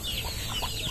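Chickens clucking softly in a short run of calls over steady background noise on a farmyard during feeding, with no talk.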